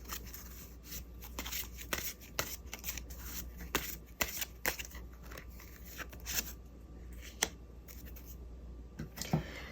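Tarot cards are shuffled and drawn close by: a run of crisp riffling flicks and sharp card snaps at an uneven rhythm over a faint steady hum, with no talking.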